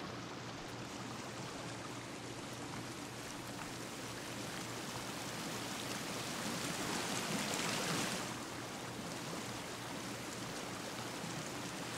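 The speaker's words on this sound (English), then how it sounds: "Let's check out this waterfall." A waterfall in the video game Sons of the Forest gives a continuous, even rush of falling water that swells slightly midway, with no voices.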